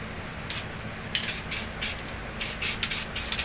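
Purple spray paint hisses from an aerosol can in short bursts with brief pauses between, close by, with faint clicks near the start.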